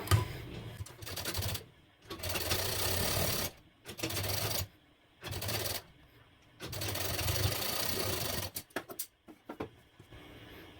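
Electric sewing machine stitching a Bombay cut blouse, running in several bursts of rapid needle chatter separated by short pauses, close and fairly loud, with no talking.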